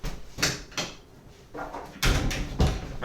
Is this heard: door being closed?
yes